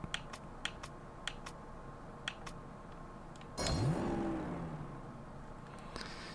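Car engine in the Horizon Chase Turbo racing game rises in a short, loud revving sweep that swells and holds briefly before easing off, preceded by light clicks.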